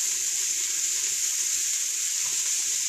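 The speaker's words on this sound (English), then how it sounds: "sauté. Until lightly browned for 5 minutes" Food sautéing in a pan until lightly browned, for a meatloaf and wintry mushroom soup meal: a steady, even sizzling hiss, close and constant, with no talking.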